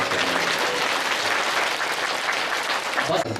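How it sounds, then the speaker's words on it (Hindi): Loud, dense applause from a crowd at a Devi Bhagavat katha gathering at a Shiv Shakti temple, thanking a visiting saint, continuous clapping filling the whole stretch without a break. "जोरदार तालियां"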